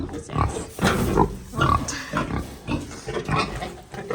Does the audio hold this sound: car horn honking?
no